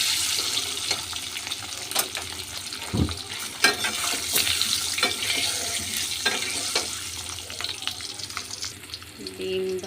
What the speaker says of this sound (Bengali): ডিমটাকে একটু ভেজে নেব।